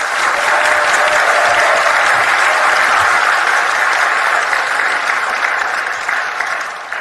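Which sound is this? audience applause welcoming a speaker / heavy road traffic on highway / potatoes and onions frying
audience applause welcoming a speaker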